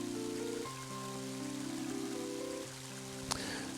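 Steady rain falls in the video game Mother 3 as a soft hiss under sustained game music tones, with a brief sharp crack near the end.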